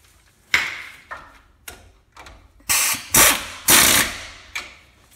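An 18 mm nut on the rear axle of a 2002-2005 Ford Explorer with an 8.8-inch axle is tightened with a hand ratchet, giving several separate loud clicking bursts spaced unevenly over five seconds.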